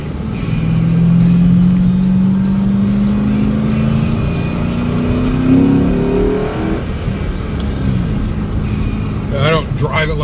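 A 2008 Shelby GT Mustang in Vista Blue revs its engine, the loud, steady pitch climbing over several seconds, then dropping and settling to a rumbling idle close by.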